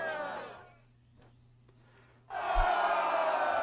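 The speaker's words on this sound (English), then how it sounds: "They cheer for Henry now." A video game crowd in medieval Kuttenberg cheers for Henry, a broad, bright roar that swells in suddenly after a near-silent pause, following a brief shouted call at the start.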